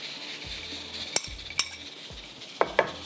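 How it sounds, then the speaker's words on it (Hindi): Chicken pieces with garlic and ginger fry in two tablespoons of oil in a pan, a soft steady sizzle under occasional sharp clinks and scrapes of a spoon stirring against the metal. "ये अब चिकन को हम फ्राई करेंगे"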